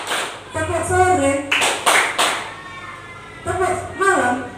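Rhythmic group clapping in a classroom-style counting game led by a teacher, with bursts of claps in counted sets of one, two and three, interleaved with a voice speaking between them.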